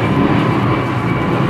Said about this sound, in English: Sorry, excuse the airplane.